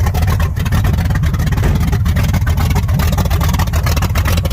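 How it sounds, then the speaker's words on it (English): Car engine with a stock cam, stuck throttle pedal, idling loudly up close in a steady, deep low rumble that carries on unbroken throughout. "As you can hear, she's got a stock cam in her."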